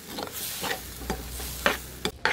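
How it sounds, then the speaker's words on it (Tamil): Coriander and curry leaves sauté in a pan for raw mango chutney, with a soft sizzle broken by a few scraping stirs of a spoon against the pan, close and fairly quiet, no voices. "ஸோ கொஞ்சம் கருவேப்பிலை, இன்னும் கொஞ்சம் நல்லா வதங்கட்டும்"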